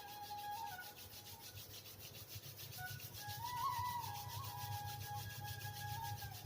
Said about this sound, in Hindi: दोनों हथेलियों को थोड़ा घस के गर्म करना है